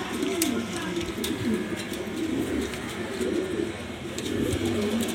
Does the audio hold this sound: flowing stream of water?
no